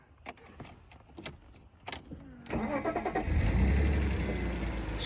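After a few faint clicks and key rattles, a BMW 325xi that sat for five years cranks and catches on a repaired fuel pump fuse, then settles into a steady, smooth, close idle.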